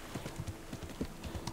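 Horse hooves clip-clopping at a steady pace in the medieval game Kingdom Come: Deliverance, a quick even rhythm heard close and alone.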